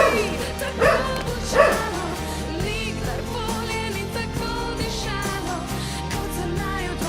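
A dog barks and yips in short bursts near the start, then keeps up softer whimpering yips amid background noise and music-like tones.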